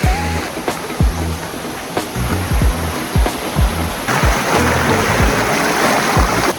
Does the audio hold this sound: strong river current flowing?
yes